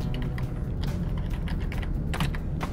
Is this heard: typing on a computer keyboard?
yes